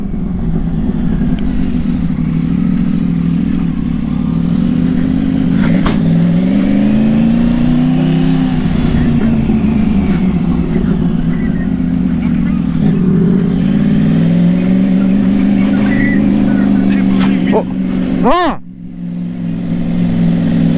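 About ten motorcycle engines in a street convoy drone and rev together, rising and falling in pitch, with a brief sharper burst near the end.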